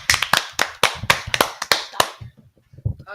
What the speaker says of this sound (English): Everyone give a clap for Connor.